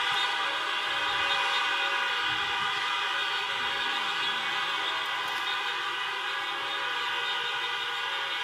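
Layered horns blare continuously in a dense, sustained chorus, loud and close, with no speech.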